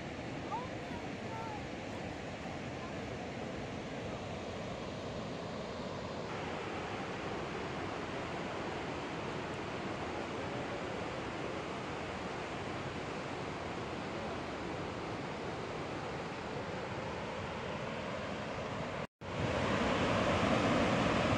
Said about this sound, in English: Some serious waterfall.